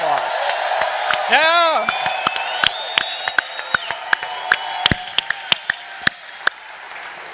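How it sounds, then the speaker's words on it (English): An audience at a mobile platform presentation applauds and cheers, a steady wash of clapping with scattered whoops and a sharp rising whistle, sharper claps popping out as it fades and a voice calls out. "let's give them a round of applause."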